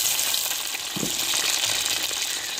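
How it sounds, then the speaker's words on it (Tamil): Chopped tomato, potato and brinjal sauté in hot oil for a dried chennakuni fish curry, giving a steady, close sizzling hiss with a brief soft stirring knock partway through. "அதே எண்ணெயிலே வதக்கி எடுத்துக்கிறோம்"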